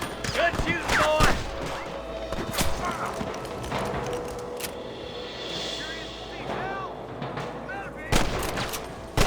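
Gunfire in Red Dead Redemption: several sharp rifle and pistol shots ring out in a frontier shootout, with hoofbeats and shouted voices mixed among the loud, irregular cracks.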